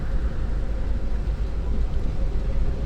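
An Argo Cirebon passenger train passing on the line near Tegal, heard as a continuous heavy low rumble and roar of wheels and carriages, loud and steady throughout with no speech.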